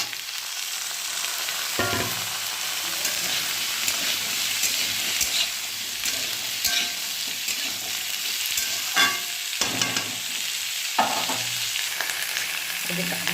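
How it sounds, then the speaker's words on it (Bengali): Vegetables tossed into hot oil fry with a steady, loud sizzle and crackle, broken up by sharp clanks and scrapes of a spatula stirring the pan at irregular moments throughout. "এবার আমি সবজিগুলো সব দিয়ে দেবো।"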